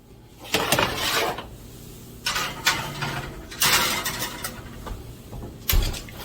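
Pan-seared pork chops go into a kitchen oven: a few sharp metallic clanks and thuds from the pan and oven door, spaced apart over a low background hum, with no talking.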